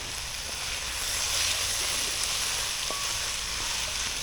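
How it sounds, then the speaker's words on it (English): Peppers sizzle steadily as they cook down in a pan for a vegetarian chicken-of-the-woods cacciatore, a close, even frying hiss with a faint clink partway through. "Now I'm going to cook down those peppers, not all the way, not to where they're mushy."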